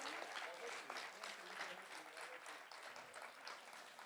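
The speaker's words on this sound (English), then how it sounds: "round of applause for these guys?" Audience applause at a plant medicine panel discussion in Philadelphia, a dense, steady round of clapping that continues for several seconds without a break.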